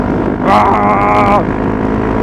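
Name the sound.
Honda CRF250L motorcycle exhaust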